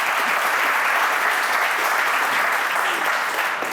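Steady, dense audience applause at a youth talk-show taping, loud and continuous from start to finish with no voices over it.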